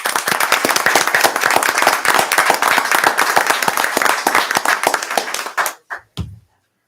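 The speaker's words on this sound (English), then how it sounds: "So, a round of applause." A room at a town board of commissioners meeting breaks into a round of applause, crisp close clapping that holds steady for several seconds, then thins to a few last claps and stops.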